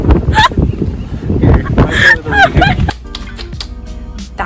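Seagulls on windy Telegraph Hill in San Francisco give a run of loud, close squawking calls over gusting wind, followed by quieter scattered sounds.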